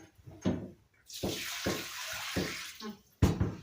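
Water pours into a cooking pot with a steady splashing rush for about two seconds, set among close clattering knocks of the pot and lid before and after.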